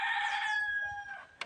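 A small rooster crows once, a loud, drawn-out call close by that trails off, followed by a short sharp sound at the end.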